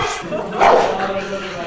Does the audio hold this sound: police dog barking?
yes